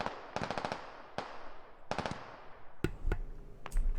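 Artillery fire in a combat video game with British forces: a run of sharp, loud blasts in quick bursts, then a few isolated heavier booms with echoing tails, no voices.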